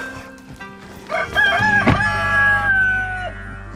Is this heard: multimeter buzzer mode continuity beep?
no